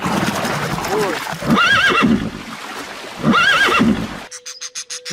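Horse neighing, two loud whinnies with shaky, rising-and-falling pitch, separated by a short gap, followed by a few brief clicks at the end.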